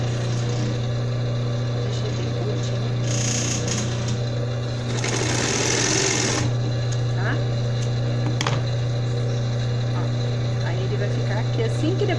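Sewing machine stitching a baby doll dress, a loud steady motor hum with rapid needle chatter running continuously up close, with a brief burst of hiss partway through.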